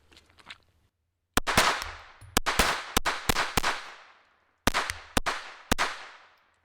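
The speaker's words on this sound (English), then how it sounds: "let's just go ahead and let's run some ammo through this Victory" A Smith & Wesson Victory pistol fires sharp, loud gunshots: a rapid group of five shots, a pause, then three more, each with a short ringing decay.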